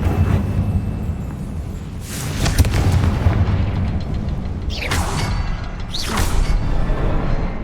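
Booming fiery explosions from a Confringo spell cast in the game Hogwarts Legacy, loud and close, with several bursts and crackling blasts over a constant rumbling backdrop.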